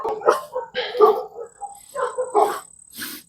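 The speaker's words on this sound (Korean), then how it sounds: "강아지가 한 마리 오네요" A dog walking up to a hiker on a countryside path beside rice paddies barks several times in short, loud, close bursts, with brief pauses between them.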